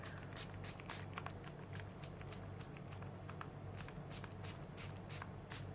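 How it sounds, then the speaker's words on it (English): Repeated quick spritzes from a spray bottle onto paper, faint and close, in an irregular series over a low steady background hum. "And I'm just spraying"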